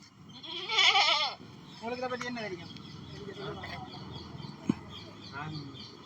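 A goat on a farm in Velanai, Jaffna lets out a loud, wavering bleat up close, followed by a couple of shorter, fainter calls amid outdoor background noise.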